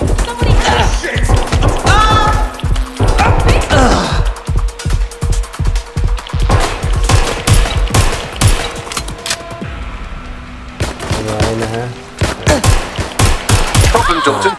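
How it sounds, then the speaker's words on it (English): Heavy, continuous video game gunfire, rapid automatic bursts and single shots crackling loudly throughout, with shouted combat callouts from characters mixed in. "Taking fire!"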